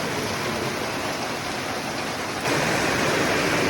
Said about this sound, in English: So it has started to rain